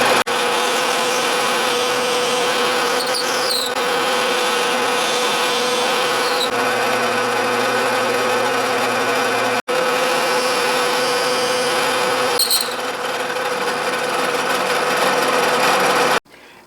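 A 4-flute end mill cuts slots in a lathe dog plate for an Atlas 618 lathe, giving a loud, steady whining drone with a constant motor hum that runs unbroken except for one brief dropout.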